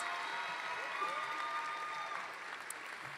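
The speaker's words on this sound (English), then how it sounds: "let's hear one more round of applause for our newest inductees of the National Society of Collegiate Scholars" Applause for new inductees at a National Society of Collegiate Scholars induction ceremony, a steady wash of many hands clapping throughout, moderately loud and fairly distant, with no voices over it.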